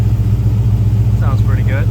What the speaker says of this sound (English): That's what the exhaust sounds like on it.